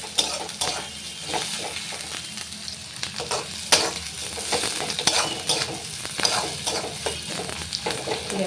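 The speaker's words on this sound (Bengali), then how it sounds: "এটাকে আমি এখন একটু ভেজে নেব একটু বাদাম বাদাম কালার হবে পেঁয়াজটা" Chopped onion and chilli frying in a pan, a steady close sizzle broken by repeated scraping and stirring clinks from a spatula, with no talking.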